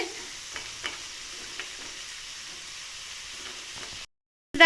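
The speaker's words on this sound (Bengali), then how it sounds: "হালকা করে আদা রসুনগুলো কষিয়ে নেওয়ার পরে এক এক করে এখন সমস্ত সবজি দেওয়া হবে তো প্রথমে গাজর দিচ্ছে" Carrots stirred into ginger and garlic frying in a pan give a soft, steady sizzle with a few spoon scrapes and knocks, close by and fairly quiet, before a sudden cutoff.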